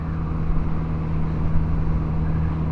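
Kawasaki Z900RS motorcycle engine pulling steadily in sixth gear at about 2,500 RPM, a continuous low, even drone heard up close from the rider's position, with no speech.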